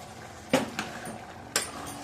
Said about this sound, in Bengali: আবার বেশ ভালোভাবে নাড়তে থাকবো।